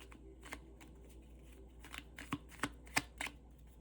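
Tarot cards being shuffled by hand make a series of crisp, close slapping and riffling clicks, sparse at first and then quicker and louder, with no talking.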